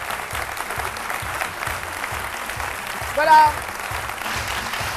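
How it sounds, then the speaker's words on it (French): A television studio audience claps loudly and steadily to welcome an invited guest, an agricultural researcher and inventor, with a host's voice briefly heard over the ovation. "je vous demande d'applaudir très fort"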